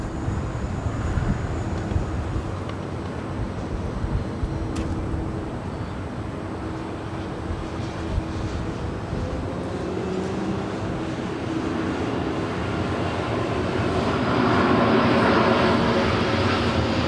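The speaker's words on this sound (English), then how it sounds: "our next arrival is the United Dreamliner" A United Boeing 787 Dreamliner arriving at LAX, a steady broad jet roar that holds for the whole stretch and swells slightly toward the end, heard from a distance outdoors with no talking.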